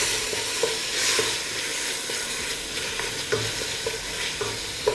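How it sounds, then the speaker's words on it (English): Ground meat browning over high heat in a pan for spaghetti Bolognese with onions and celery, a steady broadband sizzle and frying crackle with occasional stirring scrapes, continuous and fairly loud with no talk. "So I'll put in the meat, still keep a high fire and wait to brown the meat."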